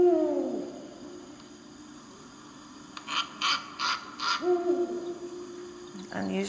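Owl hooting, a series of about five evenly spaced calls sounding at a library owl program, preceded by a longer whistling call.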